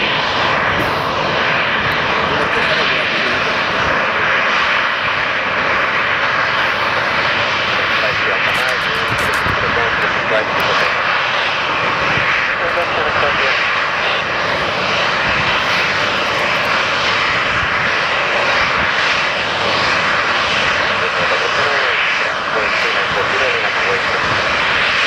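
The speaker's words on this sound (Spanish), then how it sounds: "Number 1 is the jet 2 departing from this intersection on your left." Jet2 jet airliner engines roar during departure at Palma de Mallorca airport, a loud, sustained broadband rumble and whine holding steady throughout.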